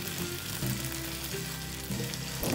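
Pork pieces frying in a pan for Kapampangan kare-kare, a steady close sizzle with light crackling and no talk.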